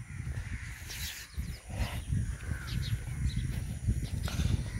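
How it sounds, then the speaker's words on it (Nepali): Crows cawing over the lakeside in Pokhara, Nepal, on a damp morning, several harsh calls at a moderate distance over a low steady outdoor rumble. "उताबाट पनि काग उड्दिरहेको छ।"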